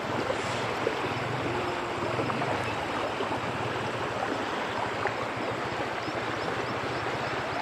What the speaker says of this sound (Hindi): और पानी भी यहाँ पे तेज़ है काफ़ी।